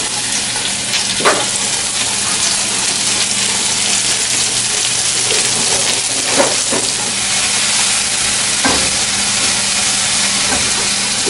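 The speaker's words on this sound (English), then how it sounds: "Now I'm going to put the onions and garlic for the spinach or saute." Onions and garlic sauté in a pan for spinach with a constant loud sizzling hiss, broken by a few soft scrapes and stirs close by, and no talking.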